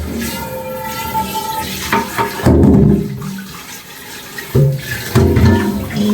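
Dishes being scrubbed and rinsed in a sink under a running tap, a steady rush of water with brief louder splashing bursts as items pass under the stream.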